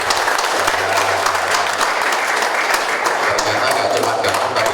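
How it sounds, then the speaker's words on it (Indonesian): An audience at a product demonstration applauds, a dense sustained burst of clapping lasting several seconds at close range, with a voice faintly underneath. "Beri tepuk tangan dong buat bapaknya dong."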